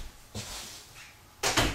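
A door is pushed shut indoors in a home, giving two brief, fairly loud knocks about a second apart against a quiet room.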